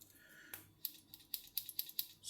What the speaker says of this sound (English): so you've got your scissors,